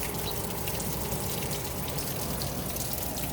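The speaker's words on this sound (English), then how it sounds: "it been raining like this" Steady outdoor rain falling in a garden with potato plants, a dense even hiss of drops filling the air without pause.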